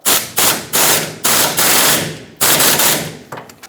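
Rapid bursts from a power tool snugging a 13mm fuel tank strap mounting bolt on a 1999-2007 Ford F-350 7.3L Powerstroke, loud and close, several hammering pulses with short pauses.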